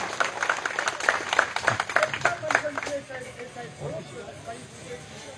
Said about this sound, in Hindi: करमवीर भाई का स्वागत करते हैं जोरदार तालियों से